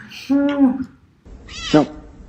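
A pet cat meows twice indoors, a drawn-out tonal meow followed by a shorter, falling one, close and clear.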